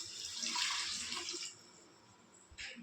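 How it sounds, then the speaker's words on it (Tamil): Water is poured from a pot onto rice for chicken biryani, a soft splashing gush for about a second and a half and then a short final splash. "இப்போது 3 சொம்பு தண்ணி ஊற்றணும்."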